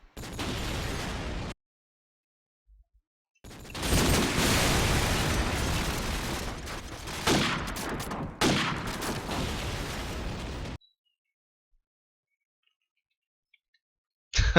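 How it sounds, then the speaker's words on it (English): Rapid gunfire bursts in a competitive Call of Duty 4 match, coming as loud sustained volleys separated by abrupt silences, with dense crackling shots and a few heavier hits. "Shots fired by Zima."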